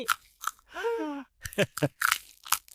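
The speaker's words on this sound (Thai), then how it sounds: "เพราะชอบเคี้ยวฉันละสิ" Crisp, crunchy bites of a raw vegetable sound as a cartoon effect, a few quick, close crunches between animated character voices.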